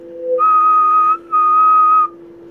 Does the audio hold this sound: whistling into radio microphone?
yes